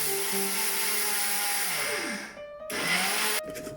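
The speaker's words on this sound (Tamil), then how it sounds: "அரிசியில இருந்து தண்ணி வடிஞ்சு போன பிறகு கிரைண்டர் கப்புக்குள்ளே போட்டு அரைச்செடுக்கிறேன்" Electric wet grinder crushing drained soaked rice into a coarse flour for traditional Tamil paal rotti, a loud steady whirring that drops in pitch as the motor slows, stops briefly, then starts again.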